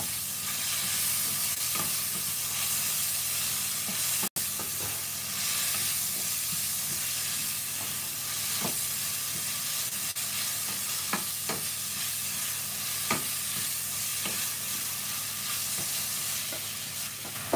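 Stuffed mushroom vegetable rice sizzling in a pan while being stirred, a loud steady frying hiss with occasional scraping clicks from the stirring, no voices.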